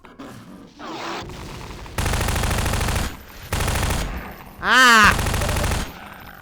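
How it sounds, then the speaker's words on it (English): Submachine gun fire in a video game, loud bursts in several blocks separated by brief gaps, with a short shout and a rising electronic effect mixed in. "Give me a lot of submachine gun ammo, so I'll use that for now."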